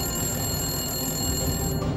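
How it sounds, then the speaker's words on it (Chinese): A telephone rings steadily and unbroken for about two seconds with no voices over it, a bright electronic ring sounding close and fairly loud. "这时，一通检举电话打了进来。"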